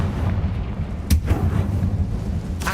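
A Confringo blasting spell cast in Hogwarts Legacy lands as a sharp booming burst over a rumbling game background, followed later by a second weaker blast.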